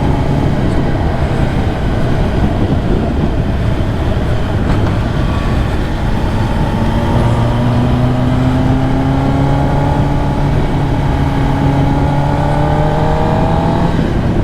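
A Kawasaki ZX10R sport bike ridden on twisty roads, its engine droning steadily with rising revs heard from the rider's position, wind rush blended underneath throughout.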